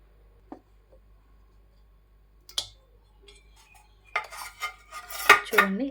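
Papaya leaf sweet turned out of a pan onto a plate: a few sparse metallic taps and clinks, then a louder cluster of clattering pan and plate knocks near the end.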